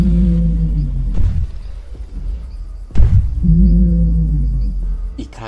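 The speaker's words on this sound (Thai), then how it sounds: "นี่คือเสียงทีเล็กจริงๆที่เขาคิดขึ้น" A reconstructed Tyrannosaurus rex vocalization made with sound software: loud, deep rumbling booms and throaty low calls, swelling and falling in two main pulses with a closed-mouth resonance.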